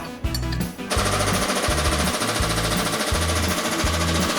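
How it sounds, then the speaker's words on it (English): Hydraulic tube bender working on steel tubing during a mini Jeep build: a loud, steady rhythmic pumping and thumping that starts after a brief rattle, repeating about every half second. "I like this new bender I got."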